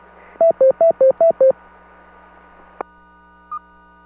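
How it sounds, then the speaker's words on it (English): A two-way amateur radio on a 2 meter club net gives an alert: six quick, loud two-pitch tone bursts in a row, then a short click and a brief faint beep, with no voice. "I think that's my radio telling me that I'm talking too much."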